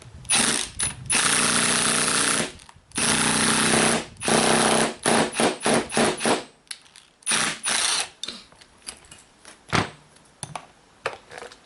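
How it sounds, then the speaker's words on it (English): A power drill runs in loud bursts while pressing a bushing into an alternator bracket, long at first and then in short stuttering pulses separated by pauses. "use my handy dandy drill"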